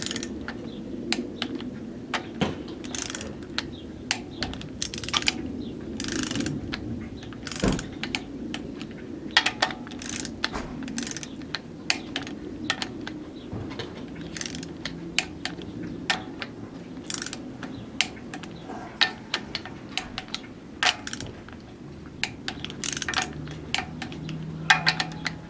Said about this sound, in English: Set the torque wrench to 11 foot-pounds. Go through the torque sequence again.